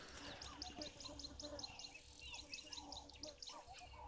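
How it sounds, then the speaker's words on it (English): Birds call in the wild near hippos, giving repeated bright chirps in rhythmic bursts over a steady hum of insects, fairly faint and distant, with no talk. "And also just picking up bird audio that is around."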